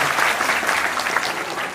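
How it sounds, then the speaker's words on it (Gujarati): An audience claps loudly and steadily at an Ahir Vaniya family get-together, a dense burst of applause from a crowd that lasts under two seconds. "સતત તમારે તો તાળી પાડવાની છે તો જોરથી તાળી પાડી નોંધાવતા રહેવું બધામાં"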